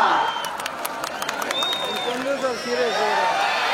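Spectators applaud and cheer at a women's wrestling bout, a dense crowd roar with scattered claps and shouts mixed with nearby voices talking over it.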